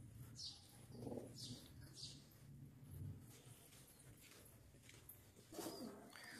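Soft, low cooing of Bajre high-flyer pigeons repeats in short phrases, with faint chirps and light background noise around them.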